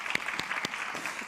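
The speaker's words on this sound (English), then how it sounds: "Applause, please." Audience applause at a women's tech conference in Eindhoven, a brief burst of scattered hand claps, fairly close and moderately loud, with no talking over it.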